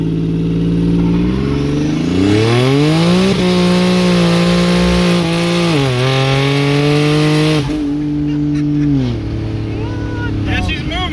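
A car with an AMR turbo kit on its big six, fitted with a COMP 6875 turbo, spins its tires on hot asphalt. The engine roars loudly and steadily, its pitch climbing and dropping through repeated revs.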